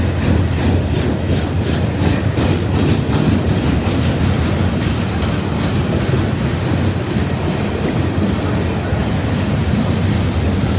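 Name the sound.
Ashland Railway short line freight train passing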